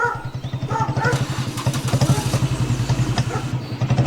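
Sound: motorcycle riding

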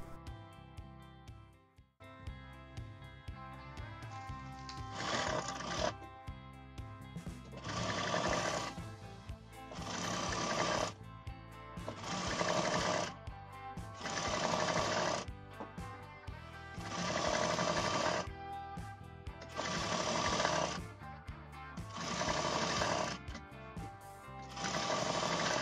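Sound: sewing machine stitching dress side seams

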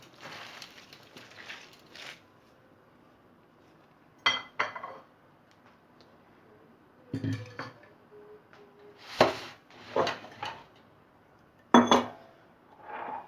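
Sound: mixing shredded cabbage for pickles

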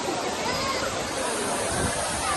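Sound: waterfall pouring down at Old Courtallam

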